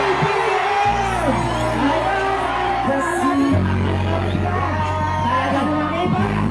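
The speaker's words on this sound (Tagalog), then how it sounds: "Iparinig natin ang malakas na sigaw!" Large political rally crowd in San Jose City, Nueva Ecija, shouting and cheering loudly and continuously, with amplified voices and music carrying over the dense roar.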